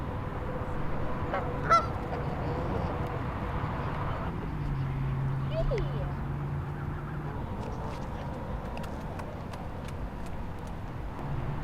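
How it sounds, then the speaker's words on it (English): A flock of geese honks repeatedly in the distance, layered over the steady rumble of a passing road and car engine. "lo and behold, a flock of geese"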